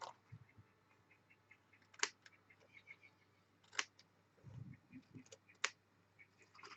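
Scissors snipping paper while making folios and envelopes, a few sharp isolated cuts spaced a second or two apart against a very quiet room.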